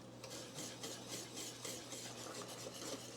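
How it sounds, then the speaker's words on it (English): A spoon stirs and scrapes steadily around a bowl as a thickening mixture for a no-bake peach dessert is slowly added, a soft continuous rasping with faint rhythmic strokes and no talking. "Slowly add it. And be stirring at the same time."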